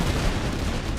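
Grenades and gunfire in a battle video game with a British campaign, a dense, continuous roar of rumbling blasts and crackling shots with no pauses.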